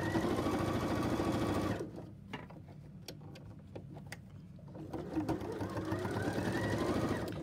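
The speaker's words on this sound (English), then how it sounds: "I'm gonna go ahead and sew this a 1/4 inch on this side." A sewing machine stitches a quarter-inch seam on a quilted pumpkin pot holder, humming loudly and steadily, dropping away for a few seconds of faint clicks, then resuming.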